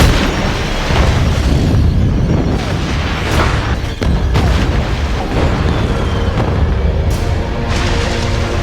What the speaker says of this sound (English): the gas pouring into the ocean hits the electrical grid, prompting some explosions